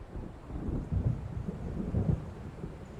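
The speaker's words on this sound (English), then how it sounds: "It seems there's a storm coming." Low, rolling thunder from an approaching storm in the video game Alan Wake Remastered, a continuous rumble that swells twice in heavy booming surges, with no voices.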